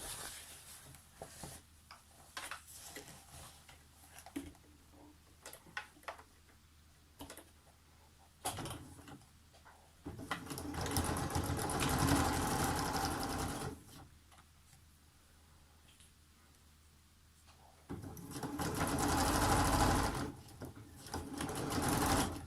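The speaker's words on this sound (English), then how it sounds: "So I'm going to stitch this down along the bottom of the hem, and then I'm actually going to top stitch the edge as well." A sewing machine stitches a hem on upholstery fabric, two long steady runs of rapid mechanical whirring up close, separated by quieter handling and a few clicks, with no talking.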